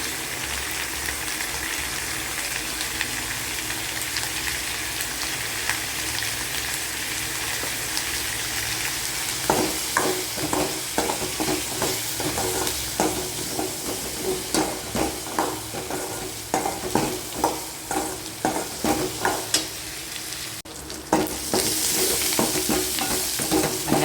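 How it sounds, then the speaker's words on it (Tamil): Onions frying in oil for an onion tamarind curry, sizzling steadily while a spoon stirs and scrapes the pan in frequent close knocks, then a brief gush near the end. "வெங்காயம் மட்டும்தான் போட்டுக்கிறேன் புளிக்குழம்புக்கு"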